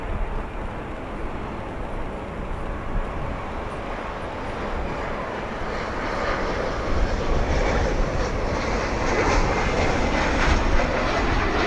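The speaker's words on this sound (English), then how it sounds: "Has just turned and is on final approach of this runway" An Etihad airliner on final approach to O'Hare International Airport gives a steady, broad jet roar that grows slightly louder as it nears and is heard alone without talk.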